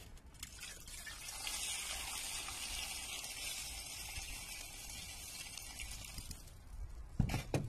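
Water is poured out of a bowl of soaking corn in a steady, fairly faint gushing stream, ending with a few clunks of the bowl.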